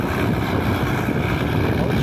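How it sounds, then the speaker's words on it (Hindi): A Swaraj 744 FE tractor engine labours steadily under a heavy load of soil, a dense, loud, continuous rumble close by with constant low roar and no talk. "अरे भाई साहब बहुत ज़्यादा लोड है इस ट्रैक्टर के अंदर, 220 से 230 क्विंटल मिट्टी भर के लेके आ रहा है।"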